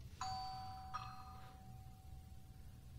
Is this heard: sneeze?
no